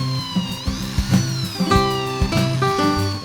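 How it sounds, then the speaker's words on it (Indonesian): A power drill bores into the end of a post for a folding betta fish rack, its motor whining in short bursts that rise and fall in pitch, close and fairly loud, with no talking. "Lalu setelah itu kita bor di bagian ujungnya."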